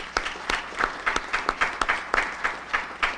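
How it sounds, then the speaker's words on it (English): A small audience at a Southern Wayne County business forum claps in sparse, distinct bursts, individual hand claps standing out rather than merging into a roar, steady for a few seconds. "Let's give them a round of applause."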